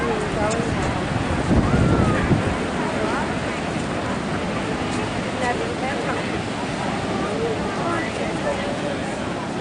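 Storm wind roars over a beach in Newcastle as waves crash and surge, a steady loud wash of noise with a stronger gust or breaker near the start.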